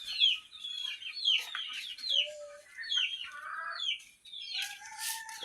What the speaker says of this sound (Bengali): এগুলো হচ্ছে দেশি মুরগি, ফার্মি মুরগি, আর হচ্ছে বোম্বাই মোরগ